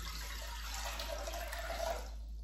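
Tap water running steadily for hummingbird sugar water, a continuous close splashing stream over a low electrical hum.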